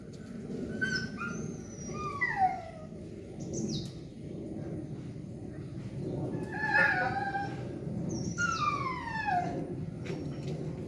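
A dog whines in high, falling whimpers, coming in two separate bursts with a pause between, over a low steady background rumble.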